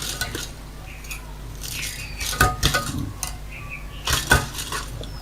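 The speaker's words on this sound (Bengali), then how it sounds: "ভালো করে নেড়ে একটা মিক্স করে নেবেন আমি মিক্স করে নিচ্ছি" A plastic cleaner mixture is stirred in a container, producing scattered clinks and knocks of a utensil against the vessel in irregular bursts over a low background hum, with no voices.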